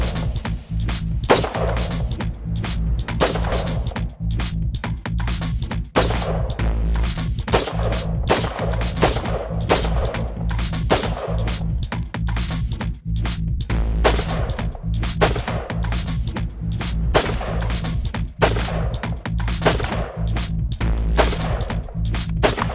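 Rapid, irregular shots from a 3D-printed gun, each a sharp loud crack over a steady low hum, firing in quick bursts and singles throughout with no talking.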